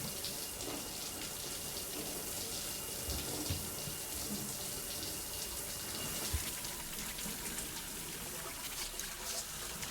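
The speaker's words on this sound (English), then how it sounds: "Is this new shower animation?" A shower in the video game Death Stranding runs as a continuous spray of water, steady and fairly close, with faint splashes and knocks scattered through it and no talking.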